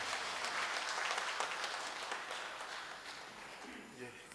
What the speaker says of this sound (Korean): 서로의 건강과 안전을 담은 격려의 박수로 오늘의 광고를 마치도록 하겠습니다